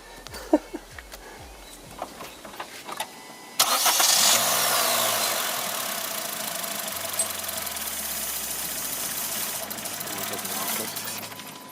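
A Honda Jazz/Fit fitted with a custom intake and breather cranks and fires after a few clicks and bumps, then settles into a loud, steady idle with a strong hissing roar, close by.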